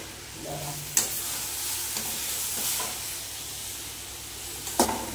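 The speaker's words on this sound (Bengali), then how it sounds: "এবার দিয়ে দেবো ধুয়ে রাখা গোবিন্দভোগ চাল, দিয়ে একটুখানি নাড়ো।" Washed Gobindobhog rice is stirred in a pan where it has been added to a fried mixture with raisins. A gentle sizzle runs under several sharp spatula scrapes and knocks, close by.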